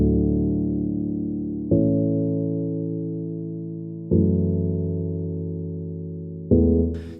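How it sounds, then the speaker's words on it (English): Main piano of a melodic electronic track plays sustained chords alone, each one struck and left to decay slowly, with three fresh chord changes spaced a couple of seconds apart. "So this is the main piano that you hear."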